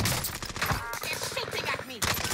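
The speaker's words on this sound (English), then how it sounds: "They're shooting at me." Gunfire aimed at the player in a battle royale video game, dense bursts of rapid shots crackling through the whole moment, loud and close, mixed with voices speaking over it.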